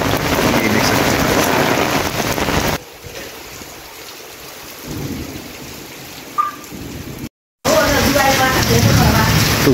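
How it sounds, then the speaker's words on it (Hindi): Heavy stormy rain with strong wind in rural open ground where cattle and buffalo shelter, a loud dense roar that drops briefly mid-clip, then returns, with a short silence near the end. "आप देख सकते हैं तूफानी बारिश"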